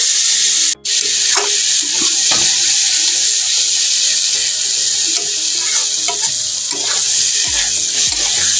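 Fried potatoes and onions sizzle loudly in spiced masala for a fish curry, a steady close frying hiss with scattered scraping and stirring knocks, briefly cut off once near the start.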